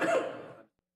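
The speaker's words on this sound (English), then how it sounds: "I just can't stop coughing." A single short adult cough burst, close and fairly loud, trailing off into silence with no talk, from someone on a live mobile trading stream who cannot stop coughing.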